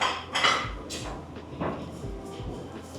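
Dishes and cutlery clink and clatter in a hotel restaurant at breakfast, a series of sharp irregular knocks and chinks against a soft room murmur, close by.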